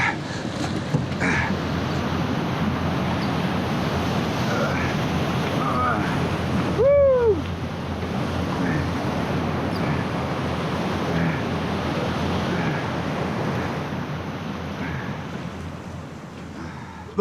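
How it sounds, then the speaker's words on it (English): Whitewater rapids and curling waves on the Colorado River in the Grand Canyon, a broad steady roar of rushing water filling the whole stretch, with a brief rising whistle-like call cutting through partway and no talking. "now we have a rapid. There's a huge boulder in the middle."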